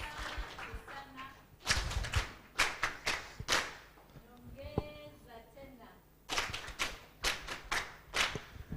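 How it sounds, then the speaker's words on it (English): Applause breaks out at a launch event for an online gender-based violence information and support web portal, with several loud bursts of clapping from an audience, separated by brief lulls and some voices. "please let's give a round of applause to the Enabel team"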